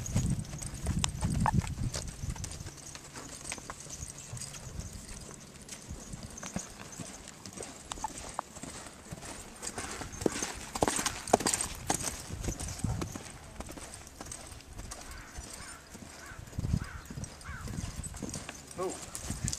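A seized horse clip-clops steadily at a forward riding pace, hooves beating in a continuous rhythm close by, with people talking over the hoofbeats throughout.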